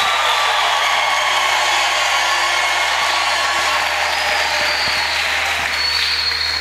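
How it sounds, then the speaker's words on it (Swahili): A church audience in Tanzania applauds loudly and steadily throughout, with high ululation cries rising above the dense, continuous clapping. "Makofi na vigelegele."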